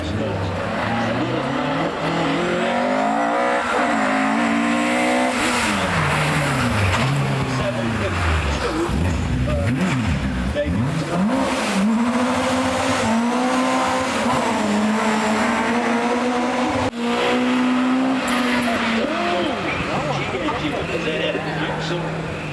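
Ford Escort rally cars racing up the Prescott speed hill climb, engines revving and rising in pitch through the gears, loud and continuous with occasional tyre squeal, while a commentator talks over the top.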